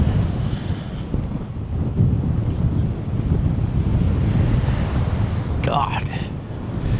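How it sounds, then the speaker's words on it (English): Strong gusty coastal wind at Tumby Bay on the Eyre Peninsula buffets the microphone in a loud, continuous roar, with surf washing faintly underneath and a brief higher whistle near the end. "the wind is just shocking"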